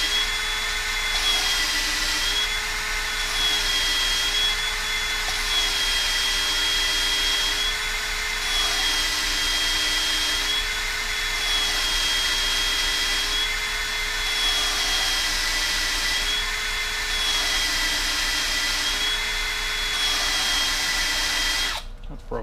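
A drill cutting on a valve from a 1964 Ford F350 dump truck engine runs as a steady, close, continuous whine with a faint pulsing as pressure is applied. It stops abruptly near the end.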